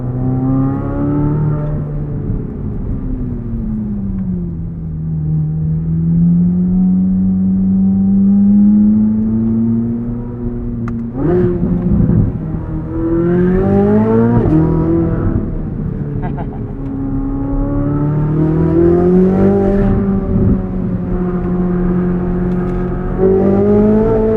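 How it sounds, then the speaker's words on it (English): A 2023 Chevrolet Corvette Z06 engine pulls hard while driving, its loud mechanical tone climbing through repeated rising sweeps with brief dips at gear changes, heard from inside the car. "let's go for a little bit more of a drive in the Z06"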